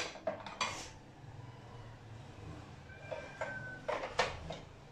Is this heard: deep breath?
no